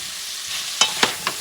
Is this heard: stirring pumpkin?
yes